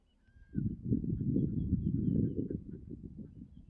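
A flock of ducks quacks in a dense, continuous chorus for a few seconds, starting abruptly after a quiet moment, in a Sundarban village.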